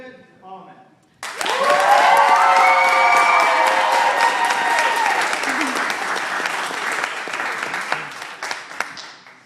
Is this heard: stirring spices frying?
no